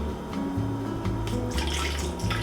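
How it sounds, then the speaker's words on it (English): White vinegar poured from a measuring cup into the reservoir of a home coffee maker, a steady close splashing and gurgling of liquid lasting a few seconds with no talk over it. "Pour that in."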